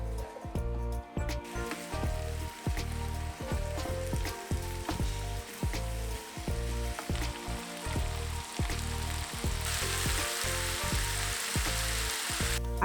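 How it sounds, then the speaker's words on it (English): Ground beef seasoned with paprika and black pepper sizzles loudly in a pan, a dense, constant crackle broken by repeated scraping strokes as it is stirred close up, with no voices. "I grounded some black pepper to add to the beef. We're stirring again."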